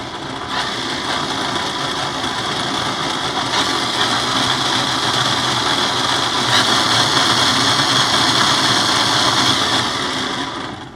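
A LEGO gear train spins up toward 5000 RPM, giving a steady high whirring mechanical drone with a faint rattle that holds fairly loud and close for several seconds, with no voices.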